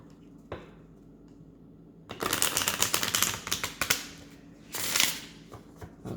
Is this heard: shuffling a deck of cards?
yes